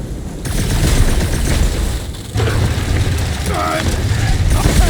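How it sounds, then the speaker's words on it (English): Heavy grinding and scraping as Drax drags a cannon out of place in the Guardians of the Galaxy video game, a dense mechanical rumble that swells and persists, with a brief voice over it. "Drax, think you can drag this cannon out?"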